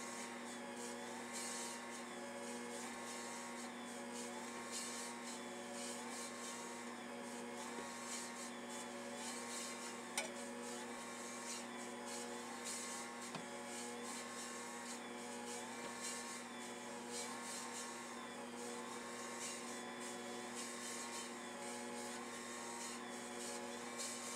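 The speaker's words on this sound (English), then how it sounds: "we got the pizza dough going in the Ankarsrum mixer" An Ankarsrum Assistent Original stand mixer kneading pizza dough with a steady, continuous motor whir and faint rhythmic rolling, constant level throughout with no talk.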